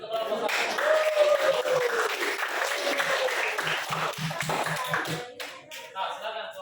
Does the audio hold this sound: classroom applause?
yes